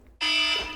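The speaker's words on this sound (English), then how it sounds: "oh my god, my alarm just went off." A wake-up alarm on a phone bursts on suddenly and stays loud, a steady bright electronic tone holding for most of the moment with no talking over it.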